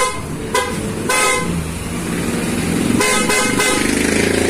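Aftermarket horn fitted to a Yamaha NMAX V3 scooter, sounded in several short bursts and one longer blast, loud and close over a running engine and background workshop noise.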